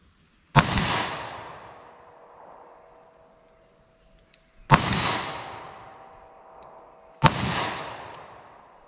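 Three loud, sharp shots from a Governor revolver firing Winchester Defender .410 rounds, each a sudden blast followed by a ringing decay, spaced a few seconds apart with no talking.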